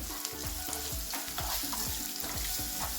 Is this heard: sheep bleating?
no